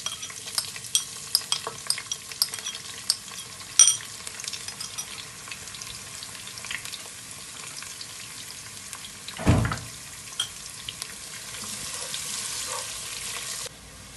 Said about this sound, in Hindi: हमारी प्याज़ें फ्राई हो चुकी हैं।